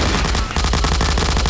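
A grenade goes off in Garry's Mod during a co-op survival round, followed by a loud, dense run of rapid gunfire bursts that fills the scene without a pause.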